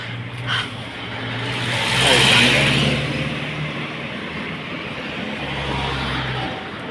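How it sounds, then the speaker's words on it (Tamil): A car on a street in Bahrain passes nearby with a swelling engine and tyre rumble, rising to a peak and easing off again under steady traffic hum. "மனுஷன் நிற்கிறவன் வண்டி ஸ்டாப் பண்ணுறான் ஸ்டார்ட் பண்ணுறான் பாரு"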